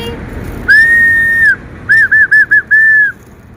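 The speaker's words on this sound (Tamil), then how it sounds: "நமக்கு வந்து விசில் கிடைச்சிருக்கு மக்களே" A toy whistle, pulled from a gift unboxing, is blown loudly up close: one long shrill blast, then a quick run of four short toots and a final longer one, with no talking.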